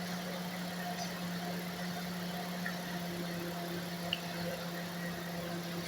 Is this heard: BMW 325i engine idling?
yes